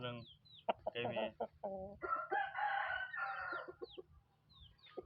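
Backyard chickens cluck and squawk in a rural Thai home setting, and a rooster crows. The sounds are close and come in short bursts, with a longer crow in the middle.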